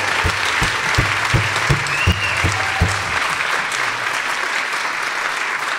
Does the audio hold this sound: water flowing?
no